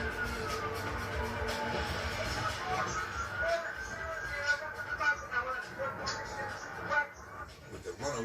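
A wailing police siren rises and falls somewhere in traffic, moderately distant, with engine rumble and road noise underneath.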